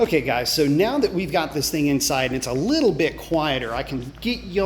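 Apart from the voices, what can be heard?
No everyday noise stands out behind the speech.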